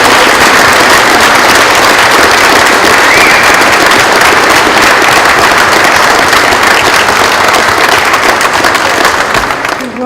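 A large crowd applauds loudly and continuously, dense rapid clapping sustained for the whole stretch, close and undiminished until a slight fade at the end.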